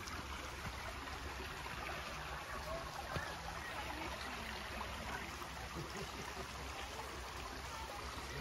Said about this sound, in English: Listen to the babbling brook.